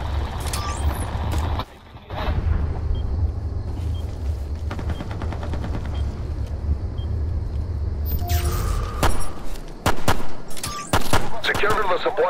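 Enemy gunfire in Ghost Recon Future Soldier, a loud stretch of rattling bursts and scattered shots over a deep rumbling game soundscape, with voices calling out between the shots.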